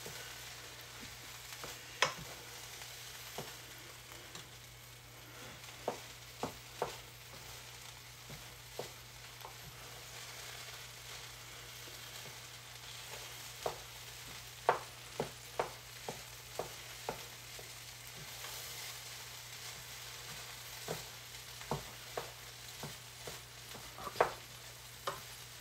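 Egg fried rice stirred and fried in a pan makes a soft, steady sizzle underneath, broken by scattered sharp scrapes and taps of the utensil against the pan, close and fairly quiet.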